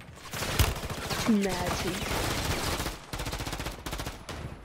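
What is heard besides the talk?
gunfire in video game Call of Duty Modern Warfare III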